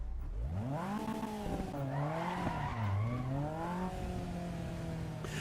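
A race car engine in the Assetto Corsa EVO video game rises and falls in pitch as it revs through gears, with tire squeal at moderate loudness and no talking.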